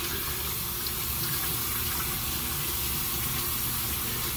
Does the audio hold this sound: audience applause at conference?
no